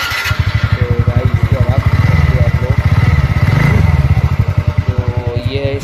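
A TVS Ntorq 125 scooter engine runs close by with a steady rapid pulsing idle that swells as it revs up and settles back, loud and continuous throughout.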